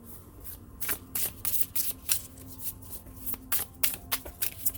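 A deck of oracle cards is shuffled by hand in a quiet room, a run of quick crisp riffles and slaps in irregular bursts, close and fairly soft.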